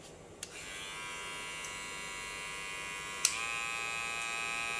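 A hair clipper's rotary motor hums in a steady, fairly loud high-pitched buzz, with a sharp click near the start and another click later as the tone shifts.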